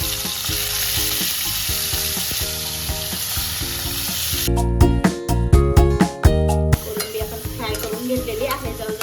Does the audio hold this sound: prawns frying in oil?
yes